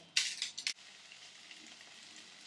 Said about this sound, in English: Now while these have begun frying